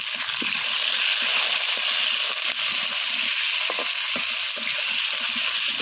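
Potatoes fry for a chicken curry over a wood-fired stove, giving a steady, loud broadband sizzle that holds evenly throughout, with faint clinks and stirring knocks underneath and no talk.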